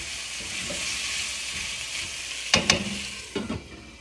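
Cabbage and potato sabzi fries steadily in a pan with a continuous close sizzle, broken near the end by two sharp clattering stirs.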